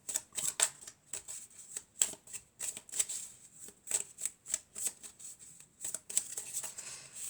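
A deck of tarot cards being shuffled and cut, a run of quick crisp riffling snaps and soft slaps in an irregular rhythm, close and fairly quiet with no talking.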